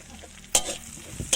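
Chili and garlic are stir-fried in a pan, soft sizzling with a few sharp scraping clanks of a spatula against the metal, close by.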